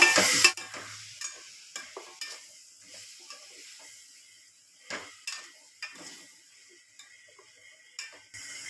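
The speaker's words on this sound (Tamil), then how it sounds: "காயை சேர்த்துட்டு ஒரு வாட்டி வதக்கி விட்டுக்குங்க." Drumstick and other vegetables are stirred and sautéed in a pan for a dried-fish curry. A faint sizzle sits under sparse, separate spatula taps and scrapes that come every second or so, with no voices.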